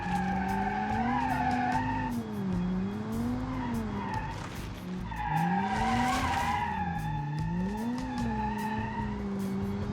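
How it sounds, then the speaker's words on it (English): Simulated hatchback car in a BeamNG driving game with an Automation-built engine, wheels spinning and tires skidding under gentle throttle, a loud wavering engine drone over sustained squealing tire noise that rises and dips in two long sweeps. "A lot of wheel spin"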